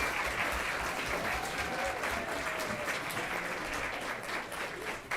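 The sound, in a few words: applause for poster contest winners at a board meeting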